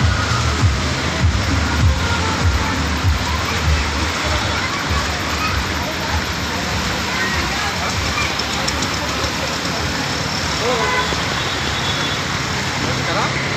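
Rainwater floods the streets of Virar knee-deep as people wade home, a constant loud rush and splashing of water with a passing engine rumble, while several people talk throughout.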